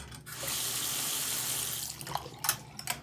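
Water running steadily from a tap, a continuous close hiss that fades near the end into a few splashes and drips.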